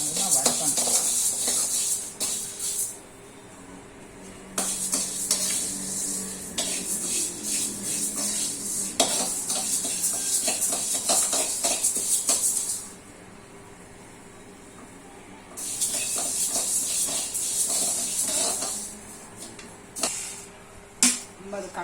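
Idli podi ingredients such as chana dal being dry roasted and tossed in a pan, giving a scratchy, rattling sizzle in long bursts broken by quieter pauses, with faint background noise and no voice.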